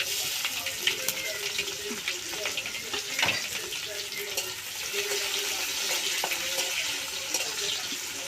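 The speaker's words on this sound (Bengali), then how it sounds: "পেঁয়াজটাকে আমি একটু হালকা ভেজে নেব" Chopped onion fries lightly in oil with dried red chilli, five-spice and bay leaf in a home kitchen, a steady close sizzle with occasional stirring scrapes and faint background clatter.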